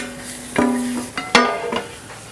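Pieces of chicken drop into a hot pan for a village-style chicken biryani and get stirred, a few distinct clattering scrapes and sizzling hits spaced out over a low background hiss.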